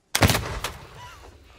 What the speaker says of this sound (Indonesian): Hawkins yang melihat Clara terlebih dahulu malah menembaknya dan mengenai bahunya.